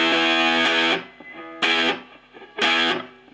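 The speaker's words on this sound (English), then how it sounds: "I'm using distortion on my guitar, and that's using my Marshall amp, and it's a valve amp" Three strummed chords on a distorted electric guitar played through a Marshall valve amp ring out, each sustaining briefly before being cut off, loud and close.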